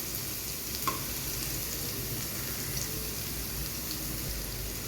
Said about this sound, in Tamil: இப்போ 2 வெங்காயம் நறுக்கி வச்சுருக்கேன், அது கூடயே போட்டு வதக்கலாம்.